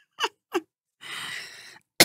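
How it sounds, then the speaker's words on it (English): Two short, sharp coughs in quick succession, followed by a breathy exhale and another abrupt burst at the end, close and clear. "Sorry about coughing in your ear."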